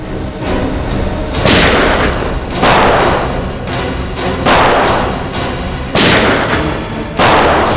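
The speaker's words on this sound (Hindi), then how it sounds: "यहाँ फायरिंग हो रही है" Heavy gunfire in loud, booming bursts that repeat every second or so, each blast sharp and followed by a rumbling tail, close and intense, in a CID crime drama scene.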